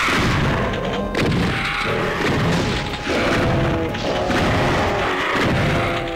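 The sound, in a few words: shotgun blast in the video game Doom 3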